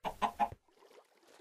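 Chickens in the video game Minecraft give three quick, evenly spaced clucks, fairly loud and close, followed by a faint scuffle of quieter background sound.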